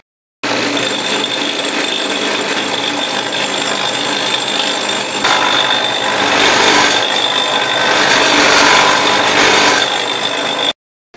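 A cutter grinds a slice off a part being spun by hand on a homemade hydro generator, a steady loud rasping scrape for about ten seconds that swells slightly in the second half.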